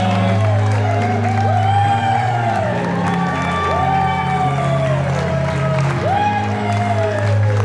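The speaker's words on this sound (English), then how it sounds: "One more big cheer for the bride and groom." Wedding guests cheer and whoop for the bride and groom, a loud crowd roar with scattered shouts rising over sustained music for several seconds.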